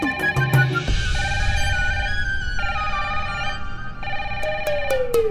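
A phone's electronic ringtone plays a repeating melodic tune, loud and close, with no voices over it.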